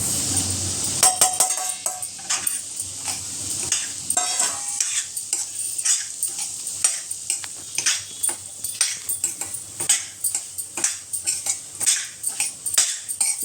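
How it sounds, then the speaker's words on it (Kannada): Semolina (rava) goes into a hot pan of fried raisins and cashews for kesari bath, with a steady rhythm of close metal spoon scrapes and clinks over a soft frying sizzle. "ಈಗ ಅದಕ್ಕೆ ನಾನು ಇವಾಗ ರವೆ ಹಾಕ್ಕೊಳ್ತಾ ಇದ್ದೀನಿ"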